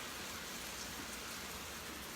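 Steady rain falls outside, a continuous soft hiss of drops hitting surfaces, fairly faint and with no voices.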